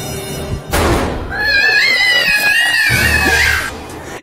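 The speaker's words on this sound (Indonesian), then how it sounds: "Ini ceweknya yang jerit doang anjir." A woman's high, drawn-out scream rises and wavers for a few seconds, loud and close, with thuds and clatter around it.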